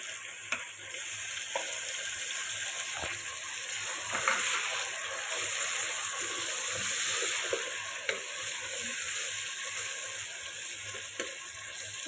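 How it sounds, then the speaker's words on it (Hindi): Tomatoes added to fried chicken in a pan for chicken biryani give a steady, close sizzle that runs throughout, with occasional small clicks from stirring. "अब चिकन जो है फ्राई हो गया। अब इसमें डालेंगे टमाटर।"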